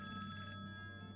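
A telephone rings inside a Minecraft horror map, heard as a faint, steady electronic tone over a low hum for about a second.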